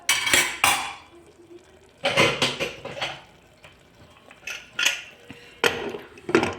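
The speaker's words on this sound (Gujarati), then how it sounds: "ને હવે આપણે કુકરનું ઢાંકણું બંધ કરી દઈશું" A pressure cooker lid being fitted and closed over a Gujarati valor papdi and muthiya vegetable dish, giving several loud metallic clanks and scrapes in separate bursts with quiet gaps between.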